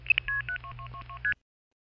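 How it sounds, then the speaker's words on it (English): Seven touch-tone DTMF dialing tones for a seven-digit number, 277-2222, played in quick succession over a faint hum, each a short steady dual-pitch beep, the last slightly longer, then silence. "277-2222 sounds like this."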